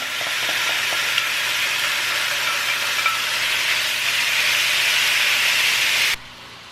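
Thinly sliced steak sizzles in a pan, a loud, dense frying hiss that holds steady and then cuts off abruptly near the end.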